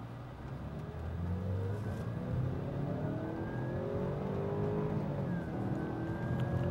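Jaguar XJ L 2014 with turbo engine launched hard in sport mode, a steady loud engine roar rising through the gears with a continuous rising whine, close and without speech.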